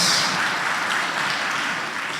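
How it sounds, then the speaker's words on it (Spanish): A church congregation applauding: dense, steady clapping from many hands filling the room, loud and continuous throughout. "Un fuerte aplauso por ellos, amados hermanos."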